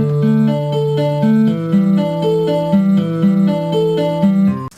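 A song plays back with deep bass notes ringing out and sustaining under a repeating melodic pattern, loud, steady and continuous throughout with no voices.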